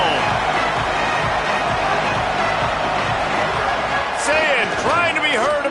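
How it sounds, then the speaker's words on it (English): A stadium crowd at an Ohio State versus Arkansas football game makes a dense, steady roar that stays loud throughout, with a commentator talking over it. "This crowd ready to make its presence known."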